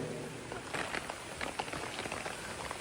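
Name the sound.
heavy rain falling on rice fields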